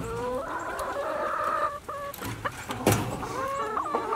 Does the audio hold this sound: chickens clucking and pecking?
yes